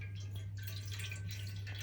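Water poured into the small basin of a steamer while preparing a steamed rhubarb and ginger pudding: a steady, close splashing trickle with a constant low hum beneath, no voices.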